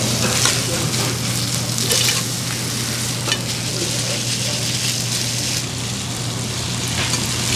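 Cheese fried rice with chopped kkakdugi radish, sesame leaves and seasoned laver being stir-fried in broth on a hot pan at a gamjatang restaurant in Haeundae, Busan, giving a loud continuous sizzle with scraping, while a voice talks quietly underneath.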